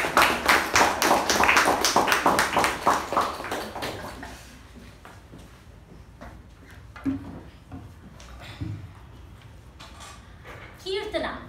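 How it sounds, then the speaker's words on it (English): Round of applause from a Toastmasters meeting audience, dense rhythmic clapping for about four seconds that then fades to scattered claps and room noise. "us welcome the radiant Toastmaster Keerthana with a big round of applause"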